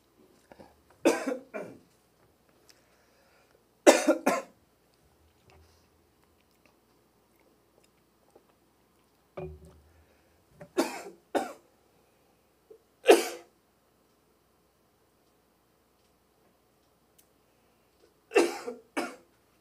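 A preacher coughs repeatedly during a church sermon at a Wednesday service, with several separate clusters of dry coughs spaced by quiet pauses and no talking.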